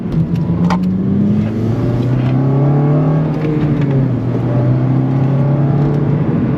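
An 8th-generation Honda Civic Si engine with a K&N drop-in air filter revs steadily and loudly into VTEC, its pitch climbing and falling in a smooth drone, heard close up with no voices.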